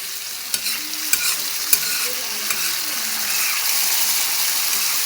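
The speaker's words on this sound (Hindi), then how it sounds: "अच्छे से अब हमने इसको मसाले को भूनना है।" Masala for a street-style tawa egg fry sizzles steadily in a hot pan while a spoon stirs it, with a few sharp scrapes and clicks over the continuous hiss, no talking.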